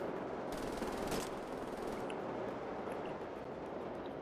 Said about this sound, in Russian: Видишь, пули летят.